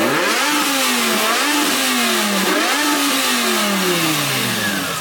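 A BMW with a straight-pipe exhaust revs hard and loud in repeated rising and falling sweeps, a raw, unmuffled engine roar close by with no talking.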